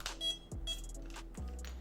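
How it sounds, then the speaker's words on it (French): A smart lock chirps out short electronic beeps, several clear tones spaced a half second or so apart, close and alone. "On vient d'avoir un petit bip qui nous indique que les piles ont bien été placées"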